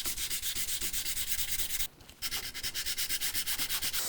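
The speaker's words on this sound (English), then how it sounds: "Sand with medium grit paper on a flat sanding block." Body filler patch on a cross-country ski being sanded with medium-grit sandpaper on a flat block: steady, rhythmic back-and-forth scraping strokes, close and continuous, with one brief pause midway.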